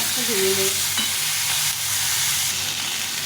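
A fish fries gently in a hot pan for a moong dal fish-head dish, a close, steady sizzle with crackling pops and a brief faint squeak near the start, no one speaking.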